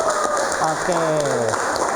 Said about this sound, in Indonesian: tepuk tangan dulu dong buat kita semua ya